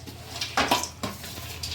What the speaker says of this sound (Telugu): కలుపుకున్నాక మనం ఫ్రై చేసుకున్న బెండకాయ ముక్కలు, పల్లీలు ఇందులో వేసేసుకోవాలి.